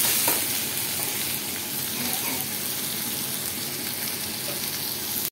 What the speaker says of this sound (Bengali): এবার আমি পেঁয়াজগুলোকে ভালো করে ভেজে নিচ্ছি